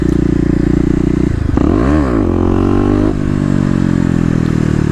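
A Kawasaki KLX250 dirt bike fitted with a 13-tooth sprocket revs loudly in second gear during a wheelie, its engine note dipping and then climbing steeply before settling into a steady, close drone.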